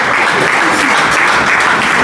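A church congregation bursts into loud, dense applause with crowd cheering, a continuous wall of close clapping filling the whole short moment without pause.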